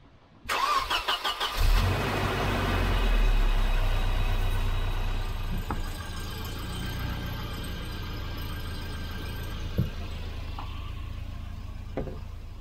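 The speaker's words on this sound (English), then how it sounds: "I'm going to start it first, run it a little bit, check for leaks" A Volvo 240 engine with new clutch parts cranks and fires up, then settles into a steady, loud, rumbling idle that runs on continuously, close to the car.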